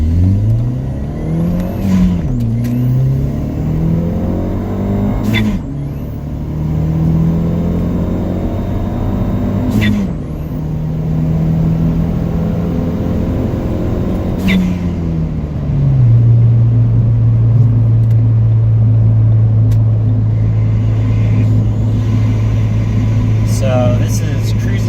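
A Ford Fiesta ST fitted with a 2J-racing intake pulls away under light acceleration. The engine note climbs and drops back several times through the gears, then settles into a steady, louder cruising drone.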